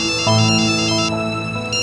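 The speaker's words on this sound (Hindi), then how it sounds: "अब हौसला फोन कर रहा है।" Mobile phone ringtone of an incoming call, a loud, close electronic melody of bright repeating tones that rings continuously without any talking.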